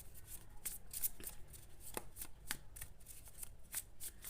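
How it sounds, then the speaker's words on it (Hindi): Tarot cards shuffled by hand, a quick run of soft riffling flutters and taps, close and quiet with no talking. "फिर से मैं शफल करती हूँ एक बार।"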